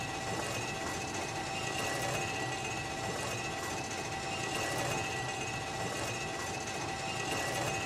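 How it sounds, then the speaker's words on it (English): A cartoon breakdown train rolls along rails, giving a steady, continuous rumble with faint rhythmic clatter, loud and unbroken throughout. "Maxwell and the breakdown train came to lift Tanner back onto the rails."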